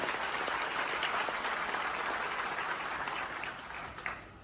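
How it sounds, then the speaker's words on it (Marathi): Energetic crowd applause at a Labour Day celebration honoring workers, a dense wash of clapping that holds steady and then gradually thins toward the end. "आज या जागतिक कामगाराच्या दिनी एकदा जोरदार टाळ्या होऊ द्या आपल्या कामगारांसाठी"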